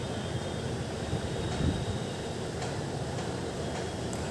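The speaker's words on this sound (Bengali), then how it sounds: "এইভাবে পকোড়াগুলো একটু ছোটো ছোটো করে গরম তেলে দিয়ে দিতে হবে" Egg and potato pakoras frying in hot oil give a steady, dense sizzle that holds evenly throughout, with no talking over it.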